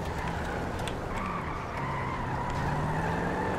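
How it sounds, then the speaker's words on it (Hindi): Car engine and gear shifts in the GTA 5 video game, a steady loud engine drone with shifting pitch and some skidding tire noise throughout, no voices. "ये गाड़ी में गियर तो बड़े तगड़े हैं, आवाज़ बाहर तक आ रही है।"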